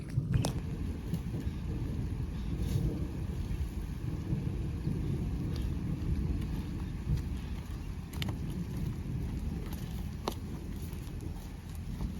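Steady rain begins falling over a farm field during the sesame harvest, a dense even patter with low rumbling underneath and occasional sharper drops, continuous and fairly distant throughout.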